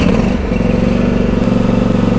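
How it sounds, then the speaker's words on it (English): Cub Cadet XT3 garden tractor engine running steadily just after starting, a loud continuous close-up drone with a faint rhythmic clatter and no speech. "Turn the key switch. When the engine starts up,"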